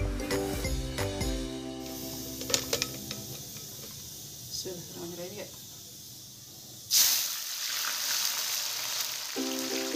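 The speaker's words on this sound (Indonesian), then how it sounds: "kita goreng bawang ini dalam minyak yang sudah panas" Shallots sizzle in hot oil for crispy fried shallots, a steady frying hiss with occasional stirring while a voice talks over it.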